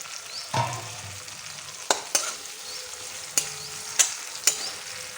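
Ginger paste frying in a pan with seeded tomato for a vegetarian jackfruit kofta curry: a soft steady sizzle broken by several sharp clinks and scrapes of a stirring spoon, close by with no talk.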